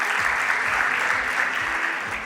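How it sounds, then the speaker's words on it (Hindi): Applause from an audience at a corporate award night, a short dense burst of clapping that is steady and close. "जोरदार तालियां हो जाएं"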